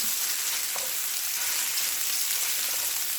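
Steady, loud sizzle of sausage frying in a pan over low heat, a continuous crackling hiss with a couple of faint clicks and no talking.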